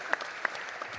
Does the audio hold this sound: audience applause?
yes